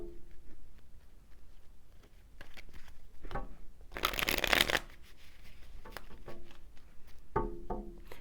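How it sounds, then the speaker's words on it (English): Tarot cards shuffled by hand, with soft riffling and flicking bursts and a loud, dense flurry in the middle as cards spill out, all close and with no talking. "That was interesting how the cards were popping out."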